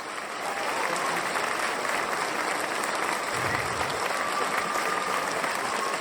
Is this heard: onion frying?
no